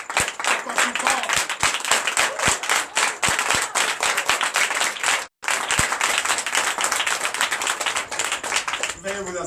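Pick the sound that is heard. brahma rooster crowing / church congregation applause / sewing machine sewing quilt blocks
church congregation applause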